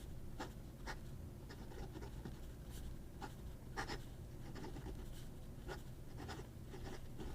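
A Montefiore 845 fountain pen writes on paper, making faint, close scratching strokes in irregular short bursts over a low steady background hum, with no voices.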